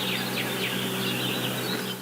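Songbirds chirp in repeated quick calls around a home in a Trigg County neighborhood with downed trees after a possible tornado, set against a steady outdoor hiss, with no talking.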